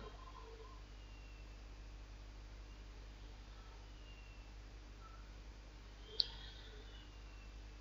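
A single sharp computer mouse click, faint and isolated, stands out against a steady low hum and background hiss.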